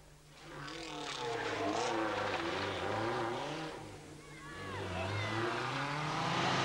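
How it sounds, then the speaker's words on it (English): A 1987 Lancia Delta HF 4WD rally car with ignition trouble runs with an uneven, wavering engine note that rises and dips, heard under a man's speech. "En de motor die rateert altijd"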